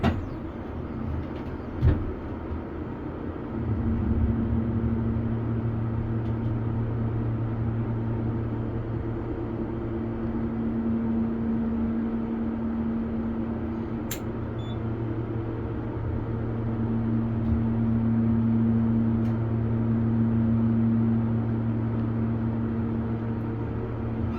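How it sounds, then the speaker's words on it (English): The motor of a modded hydraulic elevator in Garden City, NY starts with a thump a few seconds in, then drones as a steady, fairly loud low hum with a constant tone for the rest of the run. "let's see if this has a good motor"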